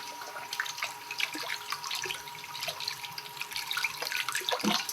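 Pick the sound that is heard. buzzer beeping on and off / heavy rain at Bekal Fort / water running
water running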